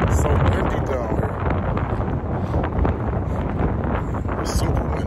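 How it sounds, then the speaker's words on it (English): Strong wind buffets the microphone with a constant loud roar and rumble, steady the whole way through, a voice faintly buried beneath it, in downtown Cleveland, Ohio, at Tower City. "So windy down here."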